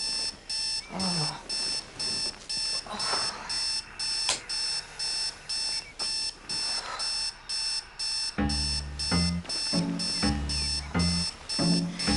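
An alarm clock rings in rapid repeated electronic beeps, loud and close, pulsing in a steady on-off rhythm that quickens and deepens near the end.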